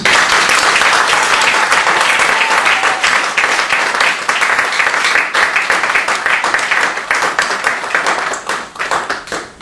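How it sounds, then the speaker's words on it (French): A church audience applauds loudly, a thick, sustained wash of many hands clapping together that thins and fades slightly toward the end. "nous allons acclamer très fort"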